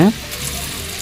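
Small onion bonda balls drop into hot oil over a low flame and fry with a steady, close sizzle, right after a brief louder splash at the start.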